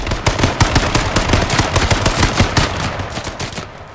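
Rapid automatic gunfire in the video game H1Z1, a loud, dense run of sharp shots firing in quick bursts without a break.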